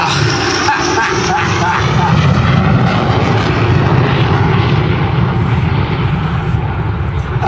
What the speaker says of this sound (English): And this aeroplane is the FGA Mark 9.